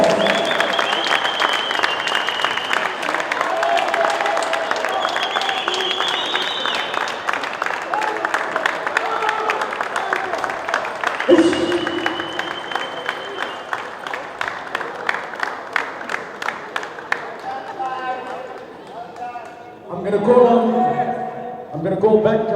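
A long, steady round of applause from an audience at a South African indoor football awards event, dense clapping with a few whoops and voices, fading toward the end as talk resumes.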